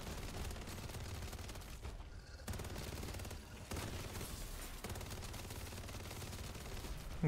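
Rapid SMG fire in MW3 Zombies, dense bursts of automatic shots rattling almost continuously with a couple of brief gaps, fairly quiet overall.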